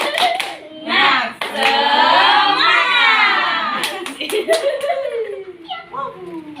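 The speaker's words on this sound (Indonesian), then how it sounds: "selanjutnya kita tepuk semangat dulu ya. Ibu ajarin tepuk semangat." A classroom of children joins a teacher in a rhythmic clapping chant, tepuk semangat, with bursts of hand claps between loud sung and shouted voices, some chuckling and laughter mixed in.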